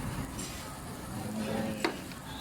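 Steady, soft sizzling of Korean-style pork frying on a hot tabletop grill, with a faint clink of a utensil near the end.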